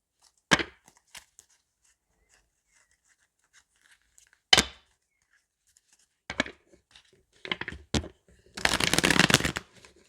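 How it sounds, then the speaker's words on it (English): Tarot cards being shuffled close up in scattered short riffles and taps, ending in a longer burst of rapid flicking, with silence between and no talk. "it's really shuffling really weirdly"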